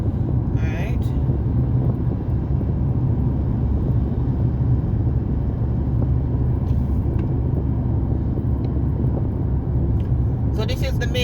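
A car cruises at about 70 on the road from Albion, St. Thomas toward downtown Kingston, Jamaica, giving a steady, loud cabin rumble of engine and road noise with no break, and wind buffeting the microphone.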